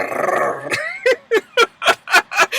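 A human voice imitates a growling cat, starting with a rough, rumbling growl that gives way to a string of short, loud, yowling bursts in an uneven rhythm, close and alone.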